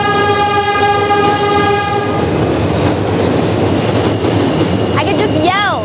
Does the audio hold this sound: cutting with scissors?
no